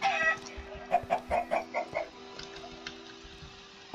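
Chickens in Minecraft give a run of about six quick clucks in a steady rhythm, fairly close and clear, followed by fainter scattered game sounds over a low background hum.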